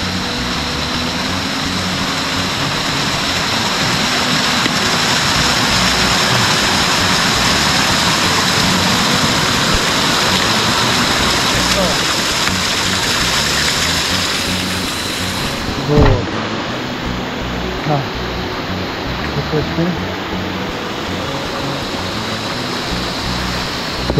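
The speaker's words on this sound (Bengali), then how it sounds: "জলের কোলাহলটাও শুনতে পাচ্ছেন।" A small mountain stream on a Himalayan trek rushes with a continuous broadband wash, close and steady, joined by a few brief thumps and scuffs partway through.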